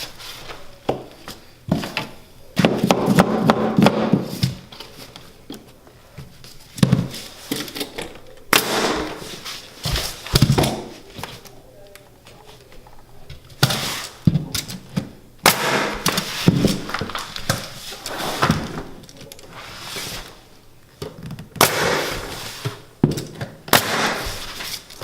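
Nail gun firing nails into hardwood flooring boards during an installation, with sharp loud pneumatic bangs scattered irregularly, some in quick runs, mixed with knocks and handling noise close by.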